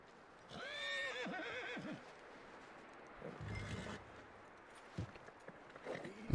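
A horse in Red Dead Redemption 2 lets out a loud, clear whinny, followed by a few hoof clops and shuffling movement, heard alone against a quiet, snowy blizzard backdrop.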